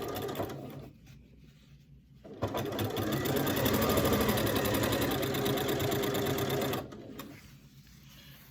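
Sewing machine stitching fabric binding strips corner to corner, a steady close whirring run of about four seconds between quieter pauses with softer mechanical hum.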